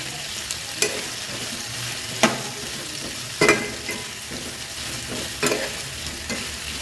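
Stuffed ridge gourd fries in a pan with salt under a constant close sizzle, broken by several sharp scrapes and clinks of a spoon turning the pieces.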